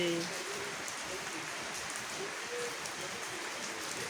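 Steady rain falls at night on a village, likely drumming on a tin roof, a constant broadband hiss that fills the whole stretch, with a brief tonal sound near the start and faint voices in the background.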